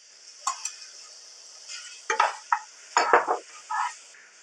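Chicken and spinach sizzle softly in a pan for a cooked pasta dish, with a spoon stirring in several scraping bursts and light clinks over a steady frying hiss.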